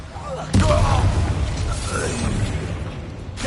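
A Bombarda blast spell goes off in the Hogwarts Legacy video game, a sudden loud boom followed by sustained rumbling combat noise, with a voice speaking in the game.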